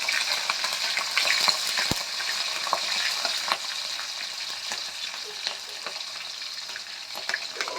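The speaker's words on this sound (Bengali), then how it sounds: "আমি ফোড়নটা একটু ভেজে নেব" Five-spice tempering with bay leaf and slit green chili frying in hot oil, a steady close sizzle with occasional stirring clinks and scrapes, no talk.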